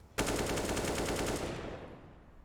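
Automatic gunfire erupts in a Counter-Strike match on the Overpass map, a sudden loud, rapid burst of shots lasting over a second before trailing off into fading echo, with no voices.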